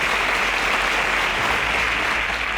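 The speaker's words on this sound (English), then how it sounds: "Round of applause for them." A loud, continuous wash of studio applause for contestants on a Nigerian school quiz show, uniform and unbroken across the short stretch with no talking.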